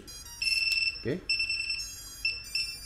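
A Rajawali FOLD7 FPV racing drone powers on with a series of high electronic beep tones in short bursts, close and clear, with a brief thud between them.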